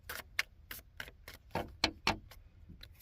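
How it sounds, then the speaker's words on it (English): Tarot cards are shuffled in a series of quick, crisp riffling snaps and taps, close up and fairly quiet, with short gaps between bursts. "Just going to have a shuffle."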